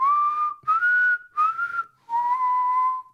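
A person whistles a simple tune in four sustained phrases with short gaps between them, the pitch sliding and wavering slightly. The whistling is clear and close, with no talking over it.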